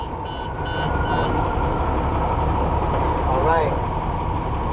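A CDL Class A truck's engine running at a steady low idle right after being started, with a brief electronic beep pattern early on and a short spoken word over the rumble.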